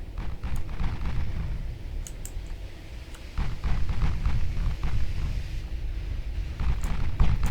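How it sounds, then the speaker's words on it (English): Six-inch naval guns fire in a Ultimate Admiral Dreadnoughts sea battle, heavy low booms rolling over a constant rumbling din, with a louder burst of gunfire partway through and more reports near the end. "6-inch gun, I think."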